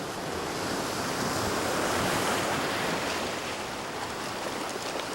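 Waves surge and crash continuously against the rocky shore of Jeju, a broad, steady roar with wind noise and no voices.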